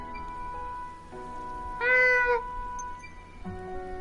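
Kitten in the video game Eiyuden Chronicle giving a single clear meow, near and fairly loud, set against soft sustained background game music.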